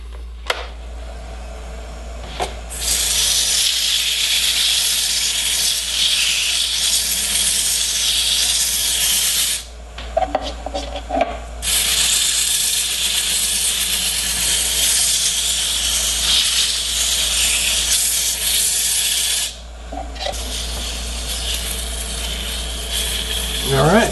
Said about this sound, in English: I'm just gonna hand sand this side